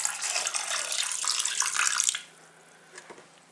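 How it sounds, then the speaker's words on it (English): Clean cold water pours into a paint trough for thinning wall emulsion, a loud splashing stream for about two seconds that stops abruptly, followed by a few faint drips and knocks. "Right, I'm going to add some clean water,"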